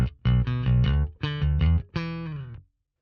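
Bass guitar through a Sonicake Matribox II Pro multi-effects processor with the compressor off, playing a short riff of plucked, slightly gritty notes in three clear groups, the last note ringing out and fading to silence.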